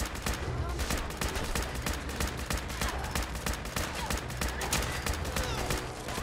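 Gunfire in the video game Fallout 4 comes as a dense series of sharp shots and bursts over several seconds, with game sounds mixed in underneath.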